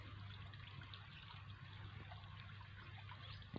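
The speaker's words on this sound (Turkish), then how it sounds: "Deremiz şırıl şırıl akıyor." A village creek at Sağkaya, swollen by recent rain, trickles steadily at a quiet, constant level, with no voices.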